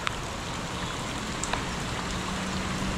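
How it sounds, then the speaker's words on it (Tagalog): Heavy rain pours down on a tilapia farm, a steady, dense hiss of water hitting surfaces with a few sharper drips standing out, with no one speaking. "Lakas ng ulan."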